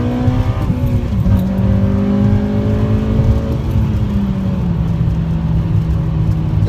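A stock Honda K20 Z4 engine revs hard and close, its pitch climbing and dropping through closely spaced gear changes, loud and continuous.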